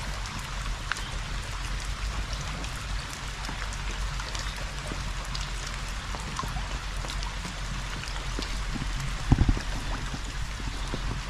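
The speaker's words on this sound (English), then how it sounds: "Just hear the brook" A babbling brook flowing steadily during a rain walk in Cheswick, St Thomas, Jamaica, a continuous broadband wash of running water with a brief louder splash near the end, no voices.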